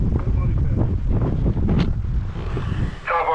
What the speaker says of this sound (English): But it's windy, which is fine. And the sail or the mast singing to us.